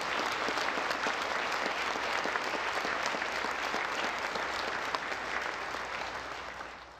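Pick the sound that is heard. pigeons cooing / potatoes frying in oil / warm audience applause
warm audience applause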